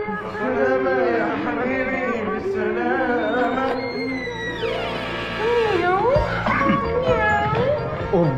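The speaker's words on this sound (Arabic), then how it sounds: "مياو" Cat meows in a noisy comedy scene: several drawn-out, wavering meows follow a stretch of lively overlapping talk, with voices continuing around and between the cries.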